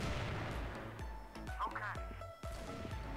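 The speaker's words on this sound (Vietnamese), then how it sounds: "Nghe tiếng súng cầu A anh em ạ" Gunfire in CrossFire around bombsite A, a series of sharp shots and bursts at moderate distance with a brief ricochet-like whine, heard under someone talking.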